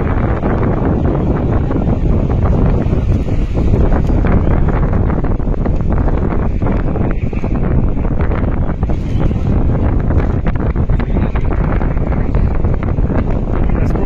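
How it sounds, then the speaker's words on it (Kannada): Strong wind roars steadily into the microphone at a riverside rescue site, a constant heavy buffeting rumble that never lets up. "ಗಾಳಿ ಜಾಸ್ತಿ ಆಗ್ತಾ ಇರೋದ್ರಿಂದ ನೀರಿನ ಫೋರ್ಸ್ ಕೂಡ ಜಾಸ್ತಿ ಆಗ್ತದೆ."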